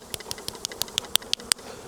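Beekeeper knocking bees off a hive frame while inspecting a split for queen cells, a series of sharp taps and knocks about eight in under two seconds, close and fairly loud over a faint buzzing.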